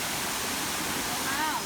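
Steady rushing roar of a waterfall heard from its top edge in Krantzkloof Nature Reserve, KwaZulu-Natal, a faint continuous broadband wash with a brief whistle-like tone near the end.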